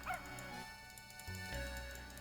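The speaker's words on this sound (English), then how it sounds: "Puppy doggy." Small puppy barks and whimpers in the Professor Layton video game, a few short yips over steady tonal game music.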